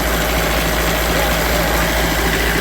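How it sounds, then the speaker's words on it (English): The diesel engine of a roughly 35-year-old Wood-Mizer sawmill at an Amish mill runs steadily at idle, a loud, constant low rumble close by with no pauses. "Diesel engine, right?"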